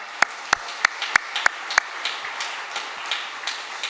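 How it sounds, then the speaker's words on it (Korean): A congregation in church claps in unison, six sharp, evenly spaced beats followed by softer, scattered applause that trails away. "칭찬받기에 마땅한 우리 교사들 다시 한번 박수하겠습니다"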